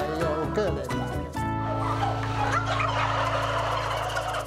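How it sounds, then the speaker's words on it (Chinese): Turkeys on a large commercial turkey farm gobble loudly in repeated overlapping bursts, with a steady droning background hum running beneath them. "火鸡不仅嗓门大"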